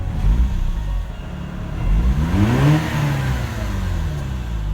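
A Mazda RX-8 R3 rotary engine with 131K miles and a throttle hesitation fault revs up from a low idle drone, the rise wavering and a little uneven before it settles back down, heard close by.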